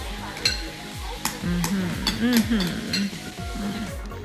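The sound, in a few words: stirring noodles mixed with ground peanuts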